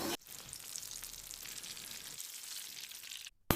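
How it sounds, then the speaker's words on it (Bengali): Green chili fritters frying in oil produce a bright, dense sizzle up close, holding steady before cutting out abruptly near the end, with a brief burst right after. "আমাকে তেলে ভেজে একবার লাল করে দিল"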